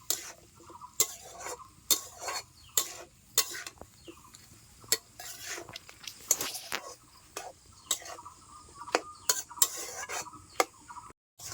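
Spices, ginger-green chilli paste and mustard paste frying with Malabar spinach and bottle gourd stems in a pan; a spatula scrapes and clinks in regular sharp strokes over a faint, continuous sizzle, heard up close.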